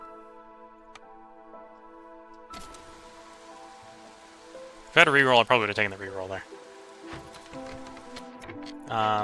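Drizzle in Against the Storm, set in the marshlands: light, soft pattering of rain and faint ticking ambience runs steadily underneath someone talking.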